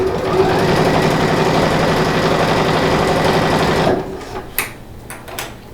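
A sewing machine runs steadily at speed, stitching thick vinyl for a clothes-organiser envelope with a dense, rapid mechanical whir, then stops abruptly, leaving a few faint clicks and handling noises.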